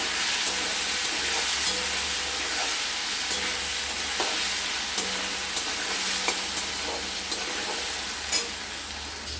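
Turmeric stirred into a thin hilsa fish curry with potato and green banana in a pan, under a loud, steady sizzle and hiss with faint, regularly spaced scrapes of the spoon.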